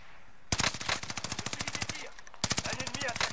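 Rapid automatic gunfire in Call of Duty Warzone, set in Pacific Caldera, with two loud sustained bursts of evenly spaced shots separated by a short pause, close and dominant.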